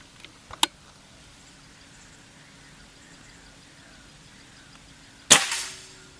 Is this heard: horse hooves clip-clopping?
no